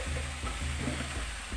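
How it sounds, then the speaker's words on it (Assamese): Taro being stir-fried in a pan with salt, with a soft sizzle under scraping stirring strokes, quiet and close over a brief moment. "এনেদৰে অলপ সময় কচুখিনি ভাজি লৈ ইয়াতে অকণমান নিমখ দি দিছোঁ।"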